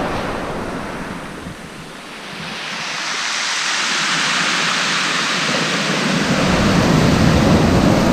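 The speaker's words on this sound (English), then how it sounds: "there's some nice big waves coming in here." Big sea waves surge and break on Brighton Marina beach, a loud continuous roar of surf that swells and builds, mixed with gusting wind noise on the microphone.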